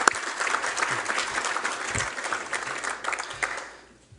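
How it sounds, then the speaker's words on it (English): Audience applause at a naval lecture event: a roomful of people clapping steadily for several seconds, moderately distant, before the sound tapers off and fades to quiet at the end. "give them a round of applause right out front"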